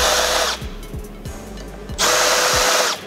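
Power drill fitted with a large countersink bit deburring the center hole of a metal washer, running in short loud whirring bursts separated by brief pauses.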